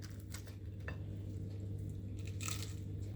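Someone takes bites of a chilli corndog fritter, giving several short, close crunches and crackles over a faint steady hum, with no talking.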